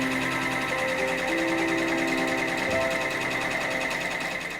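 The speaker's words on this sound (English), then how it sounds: "So let's get started sewing." An embroidery machine stitches a rhinestone design onto a tote bag, giving a steady, continuous mechanical whirr with rhythmic needle chatter and a few shifting motor tones, close and unbroken, with no talking.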